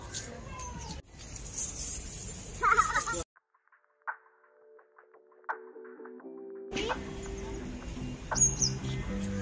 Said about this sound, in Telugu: ఇక్కడ చూడు బర్డ్స్ ఎన్ని ఉన్నాయో చూసావా? చాలా బర్డ్స్ ఉన్నాయి కదా.